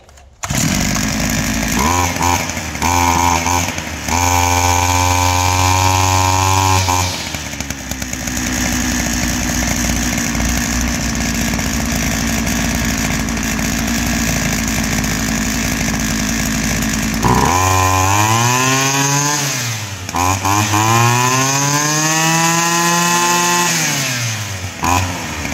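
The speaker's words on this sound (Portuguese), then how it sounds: "acho que já deu para perceber a diferença que deu no funcionamento da máquina só para a gente ter limpado a saída do escapamento" A STIHL FS 300/350/380 brushcutter with a freshly cleaned exhaust outlet runs loud and close, revving up in several quick bursts, holding a steady high idle, then surging and dropping through throttle swings near the end.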